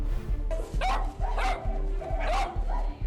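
Dogs out on a walk with priests bark several times in short, close bursts over steady outdoor background noise.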